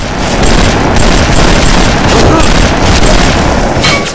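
Rapid turret gunfire from BioShock, a dense, loud, continuous burst of shots and booms filling the whole stretch.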